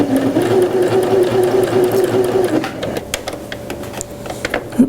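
Sewing machine stitching a zigzag seam finish along a seam allowance, a steady mechanical whir running continuously for a couple of seconds, then stopping and giving way to quieter handling clicks and faint rustles.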